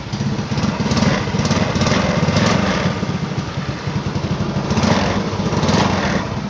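A 1995 Honda Astrea Grand motorcycle engine in original condition runs steadily up close, a loud, even small-engine putter with no pauses and no talk.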